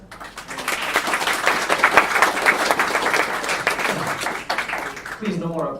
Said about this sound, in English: Please, no more applause.